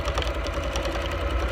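A sewing machine stitching a fabric face mask produces a fast, continuous mechanical whir with a rapid regular stitching rhythm, close and steady, with no talking.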